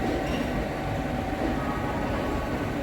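A Howrah-Amta local train runs on its line into Howrah, with a continuous close rumble of wheels and carriages that stays steady and loud throughout, with no voices.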